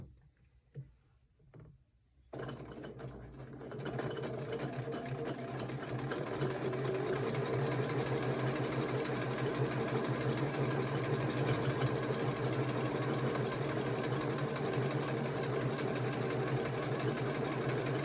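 A sewing machine stitches a quilt block, running in a fast steady mechanical whir after a few faint handling clicks at the start, close and continuous with no talking.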